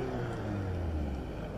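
A Jeep engine idles and revs with a low droning rumble, swelling slightly, close by and continuous, at a Christmas car meet.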